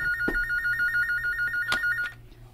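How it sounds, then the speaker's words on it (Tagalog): A telephone rings with a steady, sustained electronic tone that holds for about two seconds and then cuts off abruptly, loud and close, with a couple of faint knocks underneath and no one speaking. "Tubag telepono ni mo, balihog."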